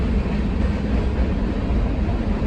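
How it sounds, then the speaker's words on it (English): A steady, loud low rumble of a long train rolling past, continuous and unbroken throughout with no voices. "I've never heard a train go on so long."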